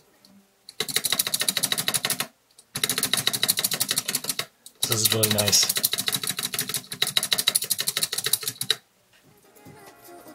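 A 3D-printed mechanical keyboard fitted with Costar stabilizers typed on in three fast bursts of dense, clacky keystrokes, close and crisp, with a brief spoken remark during the middle burst.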